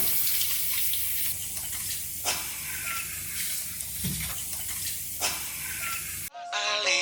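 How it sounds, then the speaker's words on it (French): A running tap in Farming Simulator 19 as hands are washed, a steady hissing water stream with small splashes, cut off near the end by music. "Je me lave les mains."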